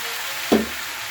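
Spices with turmeric frying in a pan for a Bengali fish curry, a steady sizzle with one short scrape of stirring midway.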